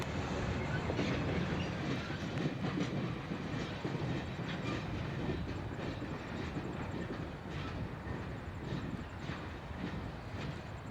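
A train rolls past steadily, wheels clattering on the rails with a continuous rumbling roar that stays loud throughout.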